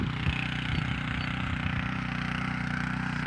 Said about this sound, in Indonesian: Sudah menggunakan traktor kecil untuk menggemburkan tanah.